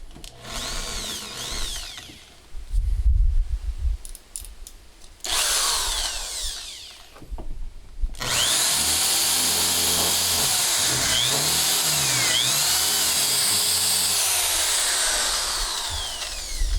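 Power drill boring holes into the wooden rim of an alfaia drum, loud motor whines that rise and fall in short bursts, then a long sustained drilling run, with no talk.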